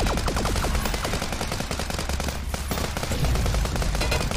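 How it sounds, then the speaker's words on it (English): Submachine gun in the video game Armored Head fires long, rapid automatic bursts that are loud and continuous, with no speech. "I'll also enjoy the luxury that is the submachine gun for now"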